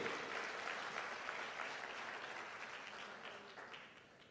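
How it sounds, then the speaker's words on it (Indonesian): A crowd at an Amway business recognition event applauds steadily, the dense clapping heard from a distance and fading gradually toward the end. "Kita berikan tepuk tangan dulu untuk Amway."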